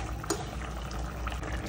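Pomfret fish simmering in a pan of gravy with potatoes, bubbling steadily and softly throughout with a close, continuous hiss of boiling liquid.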